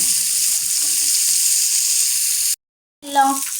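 Sardines frying in a pan give a loud, steady hiss that cuts off abruptly. After a short silence a brief voice is heard.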